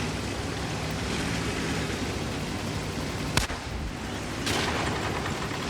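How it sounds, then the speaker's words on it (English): Tank cannon shots trade between medium tanks in World of Tanks, two sharp reports a second apart standing out over a steady wash of battle noise and rumble. "Again, exchange of fire between mediums."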